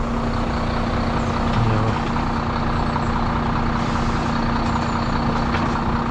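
Heavy recovery truck lowering its stabiliser legs at a UK ditch recovery of a 26-tonne truck, a steady loud diesel rumble with a constant hum and a brief hydraulic shift in the middle, no talk.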